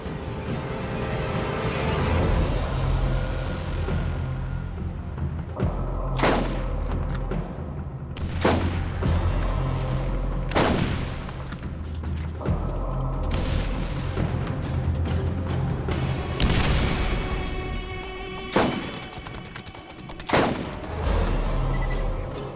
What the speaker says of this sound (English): Who is firing at me and from where?